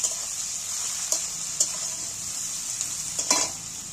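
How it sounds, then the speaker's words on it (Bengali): Chopped onions hitting hot oil seasoned with cinnamon and cloves, a steady bright sizzle throughout with a few sharp spatters and stirring clinks. "এবার পেঁয়াজ কুচাটাগুলো তেলের মধ্যে তুলে দিচ্ছি"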